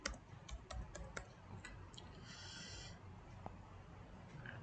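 Password typed on a computer keyboard, a quick run of faint, close key clicks that slows to a few scattered taps.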